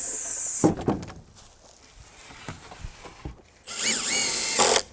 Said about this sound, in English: So as I put the blocking in, I do 3 screws down the face of this 2x8